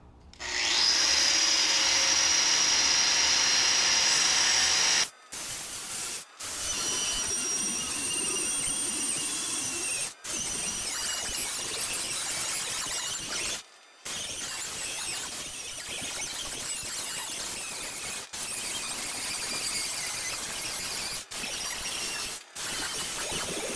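A power tool cuts through metal sheet for a welded fire pit: a loud, continuous grinding whine runs close and steady for most of the span, broken by several brief stops and restarts.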